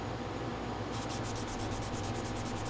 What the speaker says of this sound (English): doing a little bit of sanding